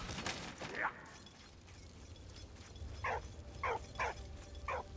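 A dog in the video game Valiant Hearts gives a handful of short, sharp barks, one early and then four in quick succession, moderately close over a low game ambience.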